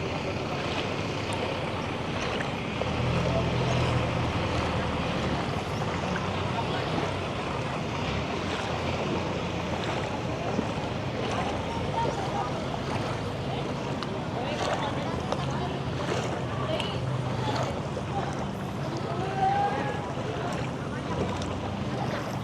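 Commuter boat motoring through floodwater in a flooded Pampanga town, a steady low engine drone with water wash and wind buffeting the microphone, carrying on unbroken with voices talking over it.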